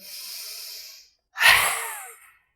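Breathing during a fire element yoga session: a soft exhale fades out, then after a short pause a deep, loud breath is drawn in close to the mic and tapers away.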